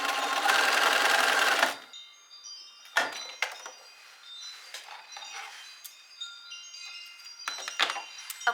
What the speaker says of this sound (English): we're ready to sew along that edge. And we're sewing 1/4 of an inch in with a straight stitch.